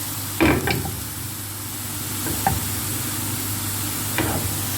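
A spoon stirs fried onions in a frying pan with the heat switched off, a few scraping knocks against the pan over a soft lingering sizzle, with no talk.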